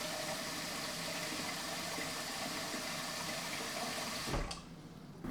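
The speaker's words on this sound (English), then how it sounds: "pour some water into this pot" Water pours steadily into a pot for soaking onion skins for natural yarn dye, a continuous broadband rushing splash that cuts off abruptly near the end, close and loud with no speech.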